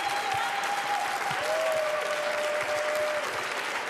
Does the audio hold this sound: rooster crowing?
no